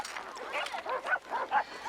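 Dogs in a Hindi-dubbed Hollywood comedy scene yip, bark and whimper in a quick series of high, whiny cries at moderate volume, with no voices.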